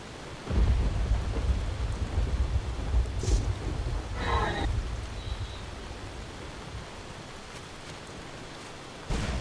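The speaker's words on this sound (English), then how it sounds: "I'm guessing another lightning spell. Static dome." Static Dome, a lightning spell cast in Skyrim with the EnaiRim mod, builds into a sustained roaring crackle with a rumbling low end and brief sizzling bursts, loud and continuous for several seconds with no voices.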